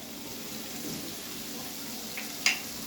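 Cubes of paneer shallow-fry in oil in a pan over a medium flame, giving a soft, even sizzle with one brief metallic tap near the end.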